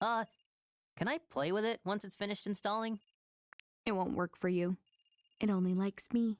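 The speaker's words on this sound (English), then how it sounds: "That's the phone. Maybe Dad's calling." A telephone rings in the game Another Code Recollection, a thin electronic ring that sounds softly in the gaps between lines of dialogue as characters talk over it.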